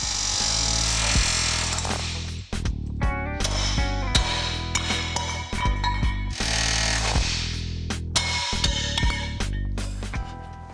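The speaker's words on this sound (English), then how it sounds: "we'll cut a few rivets and remove the shackle mounts" Workers cut rivets on an old Chevy truck frame with a power tool during a race-truck build. Loud, close, harsh grinding comes in repeated bursts with short pauses and clanks between cuts, and no talk.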